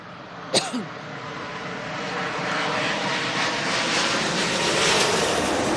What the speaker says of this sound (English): three 777-200s coming in now